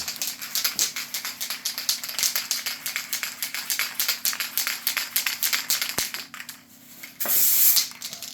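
Rapid, rhythmic hissing bursts from a spray can while adding veins to an epoxy laundry countertop, many short pulses in a row, followed by a louder continuous spray near the end.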